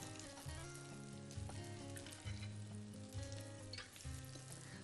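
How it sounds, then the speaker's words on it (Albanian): Meatballs (qofte) fry in a pan with a steady, dense sizzle and crackle that holds the whole way through, loud and close, with no talking over it. "Nuk dua t'i skuq shumë, sepse janë ku janë të zjera."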